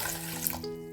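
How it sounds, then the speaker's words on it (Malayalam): Water pours into a mixer grinder jar in a home kitchen, a brief, soft, continuous trickle and splash with no speech. "ഞാൻ മിക്സിയിൽ ഫസ്റ്റ് തന്നെ കുറച്ച് വെള്ളം ഒഴിച്ച് കൊടുക്കുന്നുണ്ട്"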